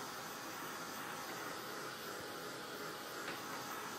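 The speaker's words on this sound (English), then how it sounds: "I'm going to dry this. You can let this air dry. You don't have to use a hair dryer" A hair dryer blows on chalk paste spread over a door tag sign, giving a steady, faint airy whoosh that holds unbroken for several seconds with no voices.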